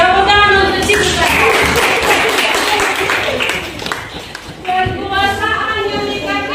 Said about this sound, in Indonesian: Tepuk tangan untuk Cinta.